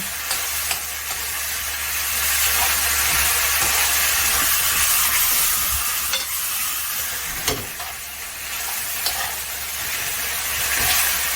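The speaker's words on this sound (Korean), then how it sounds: "자, 이렇게 기름이 튀죠?" Green onions stir-frying in hot oil in a pan for homemade seafood jjamppong: a loud, steady sizzle with crackling oil spatters throughout, alone with no voices.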